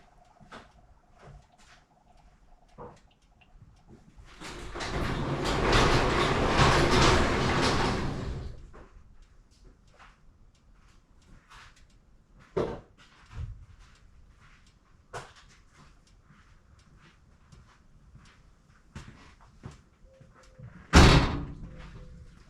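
A garage door opened in a workshop housing a 1968 Chevelle with a 396 big block, a loud rolling rumble lasting several seconds, followed by scattered thumps, clicks and a sharp knock.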